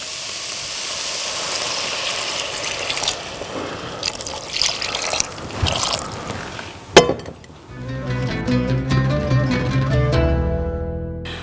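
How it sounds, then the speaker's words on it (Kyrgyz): Water is poured into a cooking pot of sizzling fried meat for Uzbek khoplama. A hissing sizzle comes first, then a sharp splash, then a steady trickling fill that rises in pitch as the pot fills. "Эми достор биз бир аз суу куябыз."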